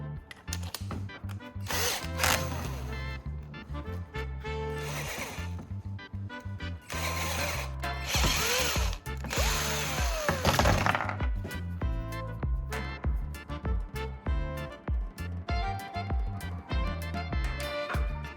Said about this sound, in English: I'll use a step drill bit to carefully enlarge the opening until it matches the pipe's